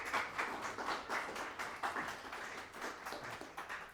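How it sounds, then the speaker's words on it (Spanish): An audience applauds at the close of a lecture on the clinical implications of the temporomandibular joint, giving a steady, moderately loud burst of many hands clapping that lasts the full four seconds with no talk over it. "Doctor Leocadio, le despedimos con este gran aplauso"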